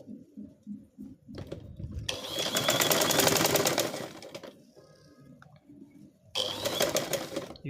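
Sewing machine stitching a waistband in two close bursts of rapid needle whirring, separated by a quieter pause with light handling, and a few soft thumps beforehand.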